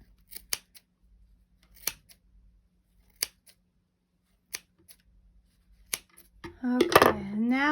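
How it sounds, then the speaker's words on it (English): Scissors snip through the yarn loops of a pom-pom in sharp, isolated cuts spaced about a second apart, close and clear against near silence, before a voice starts talking at the end. "Cut through all those loops."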